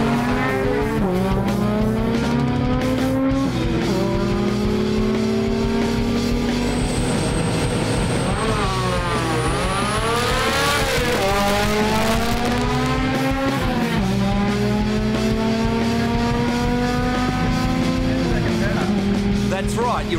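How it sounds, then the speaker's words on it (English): A Nissan R32 Skyline GT-R drag car with an HKS T51R turbo doing a burnout to warm its radial tyres. The engine revs rise and fall repeatedly under loud tyre squeal, with a voice talking over it. "Burnouts serve a purpose, to warm the tyres and let the car do this."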